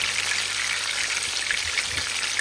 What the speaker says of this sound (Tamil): எண்ணெயை சுட வச்சுட்டு மீனை போட்டு வரலாம்